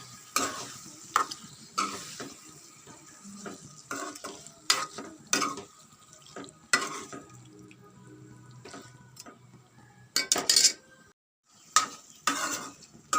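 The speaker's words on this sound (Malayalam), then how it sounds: "എന്നിട്ട് നമുക്ക് നല്ലപോലെ ഒന്ന് വയറ്റി കൊടുക്കാം" Prawns being stirred in a pan for a quick prawn roast, a soft sizzle under repeated sharp scraping and clinking strokes of a spoon against the pan, close by with short pauses between.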